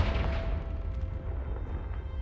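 A Confringo fire spell blast in Hogwarts Legacy, a loud, rumbling burst of fiery roar that fills the moment and slowly trails off, with no talk over it.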